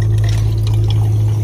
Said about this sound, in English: so good water flow